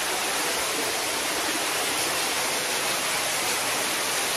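Water rushes through the cold, narrow interior of Otaki Cave in Gifu, Japan, a dense, even roar like a waterfall that fills the space with no pauses and no voices.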